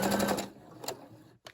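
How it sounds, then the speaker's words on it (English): A Brother SE600 sewing machine stitches tightly into the corner of a fabric scrunchie, with a short burst of fast, buzzing needle chatter up close. The burst stops abruptly, then a few faint knocks follow. "So I'm going to sew as tight up into this corner as I can"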